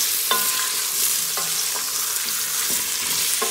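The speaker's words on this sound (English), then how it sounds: "We're gonna mix again." A spoon stirs onions, salt and ginger in a soup pot, scraping and tapping against the metal several times over a low, constant sizzle; the sound is close and clear, with no talking.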